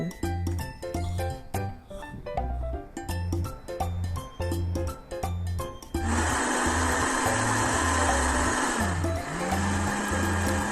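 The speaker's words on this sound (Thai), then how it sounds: "เมื่อใส่ส่วนผสมต่างๆ ลงไป ในโถเรียบร้อยแล้ว ก็กดปั่นได้เลยจ้า" Music plays at first, then a blender starts up midway, loud and steady, whirring through banana, yogurt, cocoa powder and vanilla for a chocolate banana ice cream and running to the end.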